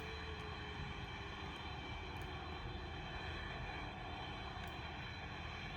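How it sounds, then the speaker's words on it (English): A steady, constant airplane engine drone from the Roblox-style flight game PTFS, running continuously without pause and filling the whole stretch, with no talk over it. "There's the engine."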